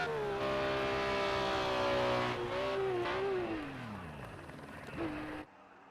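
Engine of a BMW M1 Procar in Project CARS 2 at Sakitto GP revs hard and close, then the pitch sweeps down as it slows, blips once more and cuts off abruptly near the end.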